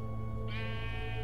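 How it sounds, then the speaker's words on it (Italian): A sheep in Minecraft Story Mode lets out a single short bleat over a steady, humming game backdrop, clear and close without any talk. "è apparsa una pecora."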